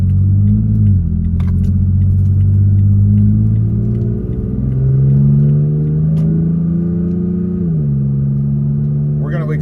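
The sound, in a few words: Toyota Tacoma with new exhaust accelerating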